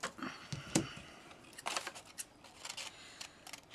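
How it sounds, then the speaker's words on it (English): Scissors trim paper edges for handmade cabinet cards in a few quiet, close, crisp snips and slides spread over several seconds. "Just going underneath the actual edge of it with the blade of my scissors, just to try and cut the paper back slightly more"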